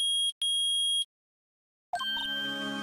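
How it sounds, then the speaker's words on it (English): A metal detector in Phoenix Wright: Ace Attorney beeps twice with a loud sustained electronic tone, then after a pause a clanging jingle of rising notes follows. "It's beeping! The metal detector's found something!"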